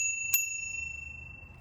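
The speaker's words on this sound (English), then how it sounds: "another little safety feature on here is the bell." A single bright bell ding on a Magnum Navigator e-bike rings out near and clear, its metallic tones sustaining and slowly fading over a low background hum.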